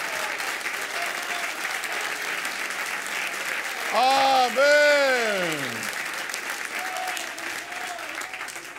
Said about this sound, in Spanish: Un aplauso con ánimo, mi hermano